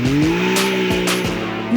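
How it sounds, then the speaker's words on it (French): SSV side-by-side off-road vehicles racing in the first round of a championship at Gonzagueville, Port-Bouët, Côte d'Ivoire, their engines droning loudly and steadily up close, with brief whooshes as they pass. "vrombissement des moteurs SSV a réveillé la population de Gonzagueville"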